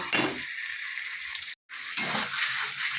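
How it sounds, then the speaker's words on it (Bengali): Young jackfruit sautéed with spice paste in hot oil, a close, steady sizzle broken by a couple of stirring scrapes and a brief cut to silence before the frying resumes. "এঁচোড়টা দিয়ে আমি মশলাটার সাথে বেশ কিছুক্ষণ কষিয়ে নেব"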